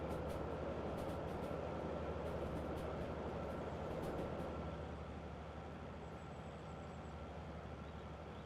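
A train running in the railway simulator game Derail Valley, a continuous low rumble of wheels and engine that holds steady and eases slightly toward the end, with no talking.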